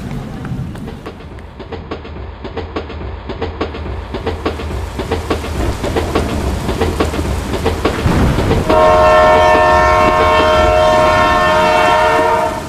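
A train running along the tracks with a steady rhythmic clickety-clack that grows louder as it nears, then a long sustained horn blast, close and loud, no voices.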